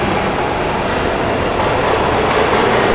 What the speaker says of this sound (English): Sounds like a subway.